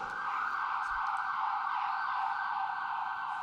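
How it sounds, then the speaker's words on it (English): Emergency vehicle siren wails steadily from outside a lecture hall, a continuous sustained tone heard alone, moderately loud and unbroken. "because we have sirens"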